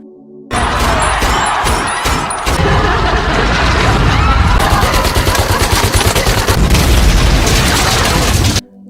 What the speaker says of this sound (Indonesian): bom waktu yang mereka bawa meledak dan menghancurkan seluruh bangunan bioskop